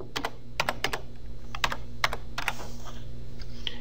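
Keys tap on a computer keyboard while a class code is entered, in short irregular bursts of quiet clicks with pauses between them.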